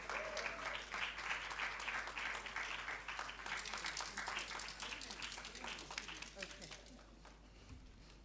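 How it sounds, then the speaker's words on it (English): A forum audience on women in government and media gives a round of applause for a speaker being welcomed, dense continuous clapping that fills the room and tapers slightly toward the end. "Please, let's welcome her with a round of applause."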